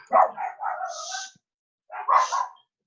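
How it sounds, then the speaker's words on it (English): A dog barks in two short bursts, a quick run of yapping barks, a pause, then another pair, fairly close and clear with no talking. "the dogs are all barking"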